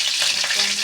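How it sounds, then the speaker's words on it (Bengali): Potatoes frying in a pan over low heat, a steady dense sizzle with faint stirring, close and continuous throughout a brief moment, no talking. "আমি আলুটা ভেজে নেব, আলুটা হালকা সিদ্ধ হয়ে যাবে।"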